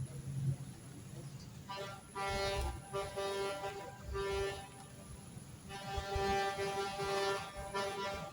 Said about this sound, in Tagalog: narinig niyo ba yun? Yung busina.